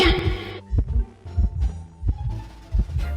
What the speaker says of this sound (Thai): หัวใจก็เริ่มตึกตักตึกตัก